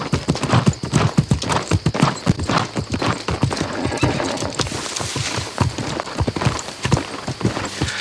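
A player's horse moving in the MMO video game New World, loud rhythmic hoof clip-clops pounding steadily at close range, with a faint whinny mixed in.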